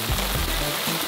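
Intense rain falls in a dense, steady hiss of drops striking surfaces close by, loud and continuous, with low rumbling underneath and no voices.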